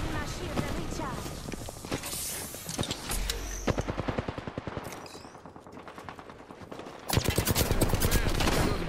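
Rapid bursts of automatic gunfire with scattered single shots in an Apex Legends firefight, loud and dense, cutting out briefly then resuming, with voices talking over the shooting throughout.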